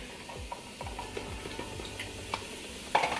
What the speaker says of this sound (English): Ooh, I love the sizzle.